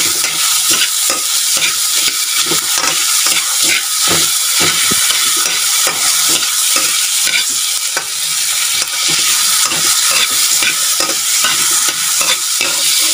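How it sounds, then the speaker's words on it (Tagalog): Food sautéing in a hot, smoking pan, a loud continuous hiss and sizzle broken by frequent rhythmic stirring scrapes, close up with no voices. "Pausok na. Ayan. Gisahin. Hanggang malulot na ng maluto."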